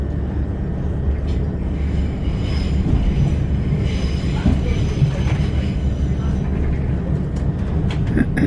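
Railway coaching stock and wagons rolling past near Watford and Wembley, a steady loud rumble with wheel noise and faint squeals throughout.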